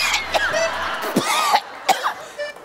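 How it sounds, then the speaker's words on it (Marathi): Several short dry coughs from a person at a doctor's examination, close and fairly loud, spaced irregularly with brief quiet gaps between them. "खोकल्याचा त्रास कधीपासून आहे"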